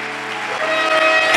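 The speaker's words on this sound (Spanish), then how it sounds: "Dale un aplauso al Señor" A church congregation breaks into brief applause during a sermon, a dense wash of clapping rising over sustained tones, loud and close, lasting only a moment.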